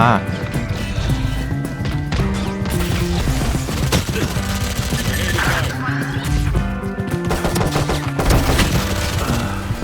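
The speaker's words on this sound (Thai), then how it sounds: "ยิงนานไปหน่อยเมื่อกี้" Sustained gunfire from the video game Valorant rattles in loud, rapid bursts mixed with game sounds, while a player talks over the action.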